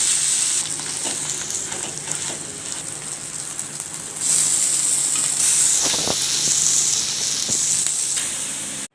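Potatoes fry on a pan for Mumbai-style masala pav, a loud, continuous hissing sizzle that grows stronger midway, with a few scraping stirs and no talk.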